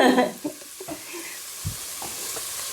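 Onions cook gently in a pan for vegan chili, a soft continuous sizzle under a couple of brief taps and stirs while people chat nearby.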